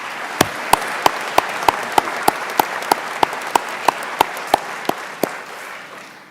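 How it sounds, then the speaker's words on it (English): Audience at a college graduation ceremony claps for veterans, heard as about a dozen sharp, evenly spaced single claps ringing out in a reverberant hall over a faint crowd murmur. "Please give our veterans another round of applause."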